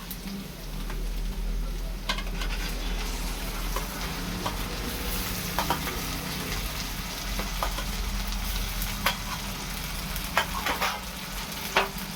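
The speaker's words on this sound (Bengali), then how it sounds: "পেঁয়াজটা একটু লাল লাল করে ভাজা হয়ে গেলেই আমি দিয়ে দেবো" Onions frying in a pan before a ground ginger and green chilli spice paste goes in, a steady close sizzle with scattered crackles and the occasional scrape of stirring, no talk over it.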